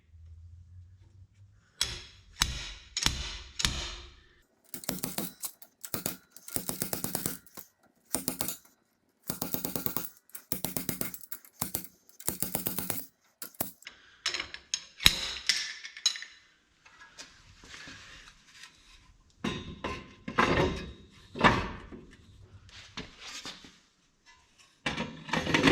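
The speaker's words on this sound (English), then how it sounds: "I'm using a slide hammer with a little hook on it." A slide hammer with a small hook pulls a stuck hub seal on a Ford Super Duty Sterling 10.5 axle, giving repeated sharp metallic clacks in quick bursts with brief pauses, loud and close, with no talk.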